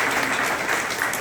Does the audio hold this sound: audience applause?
yes